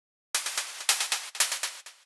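Synth hi-hats made in the Retrologue synth run through an eighth-note stereo delay, a burst of bright noisy ticks with echoing repeats in a steady rhythm, close and fairly loud with no voices.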